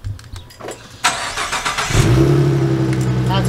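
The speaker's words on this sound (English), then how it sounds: "this is a cold startup on it" Ford Mustang 3.7 V6 with stock exhaust cold-starting: a short starter crank, then the engine catches with a loud rev and settles into a steady high idle, close and loud with no talk.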